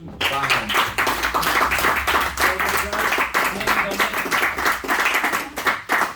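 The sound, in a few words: final round of applause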